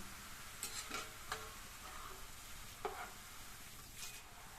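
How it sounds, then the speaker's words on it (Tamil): Faint, steady sizzling of hot oil frying omapodi snacks, with occasional soft scraping stirs, no voices. "இப்போ எண்ணெயோட சத்தம் ஓரளவு அடங்கிருச்சு."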